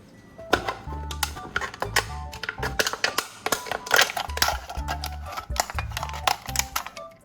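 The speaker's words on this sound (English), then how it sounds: "I'll cut the soda can in half and keep the bottom portion." Scissors snipping through a thin aluminum soda can to cut it in half, a rapid series of crisp metallic clicks and crunches, close and fairly loud, with no talking.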